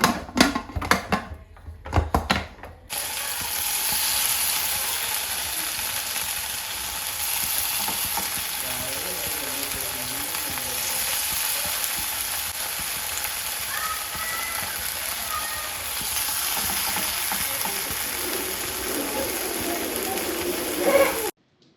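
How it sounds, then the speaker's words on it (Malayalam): Onions and tomatoes sauté in a pan, giving a steady, close sizzle and crackle with light stirring scrapes that runs almost unbroken after a brief opening burst of clatter. "ഞാൻ ഉള്ളിയും തക്കാളിയൊക്കെ വാട്ടിയിട്ട് കുക്കറിലേക്ക് തന്നെ ഇട്ടിട്ട് തന്നെയായിരുന്നു മിക്സ് ചെയ്ത് വെച്ചിട്ടുണ്ടായിരുന്നത്"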